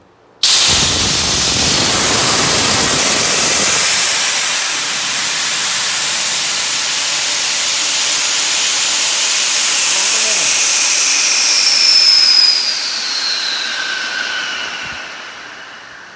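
A built air compressor with its valve opened fully, dumping air in a loud, steady, broadband hiss that begins abruptly and holds for about fifteen seconds before easing slightly, heard alone without talk.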